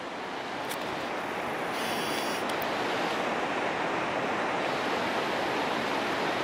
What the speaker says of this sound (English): you see the river obviously flowing through here